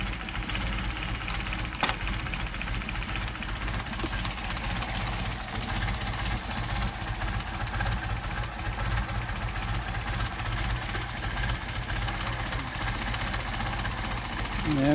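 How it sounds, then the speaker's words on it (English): A Mercedes 190SL engine with Solex carburetors idles at very low RPM, around 350, giving a steady, continuous mechanical rumble throughout with faint talk over it. "what the engine looks like running that low of an RPM"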